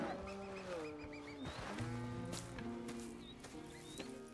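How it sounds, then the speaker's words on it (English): Cows moo in a farm pen in Red Dead Redemption 2, several long, low, drawn-out calls overlapping one another, fairly close and clear over a quiet outdoor background. "Here's the cows."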